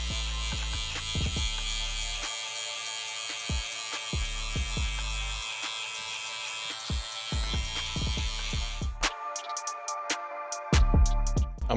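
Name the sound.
hair clippers with 4 guard cutting hair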